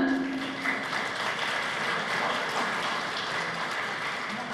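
Steady applause from a crowd at a Tamil speech event fills the whole stretch, dense and even, with no voices standing out above it.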